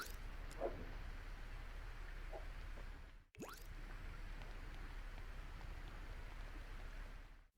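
Steady, soft rain falls in The Sims 4 as a Sim eats outdoors at night, a continuous hiss with a brief break partway through and no voices.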